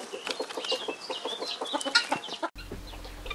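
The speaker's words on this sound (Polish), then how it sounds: "Paw oraz kury gatunku arałka szukają w ziemi jedzenia" Several Araucana chickens cluck and chatter in a steady, busy stream close by, with a brief cut to quieter ambient farmyard sound at the end.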